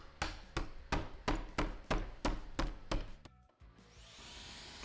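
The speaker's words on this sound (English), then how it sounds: "After I hit the claw hammer and those inclusions" A claw hammer strikes bark and wood inclusions in a live-edge slab: about eight loud, sharp blows at a steady rhythm, close up, then a quieter tool drone begins.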